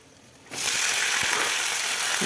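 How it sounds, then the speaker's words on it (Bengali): Black cumin, onion and bay leaf hit hot oil with a sudden loud sizzle that starts after a short quiet moment and continues as a steady, close frying hiss. "অল্প কালো জিরে দিয়ে পেঁয়াজ তেজপাতা দিয়ে একটু নাড়াচাড়া করে নিতে হবে"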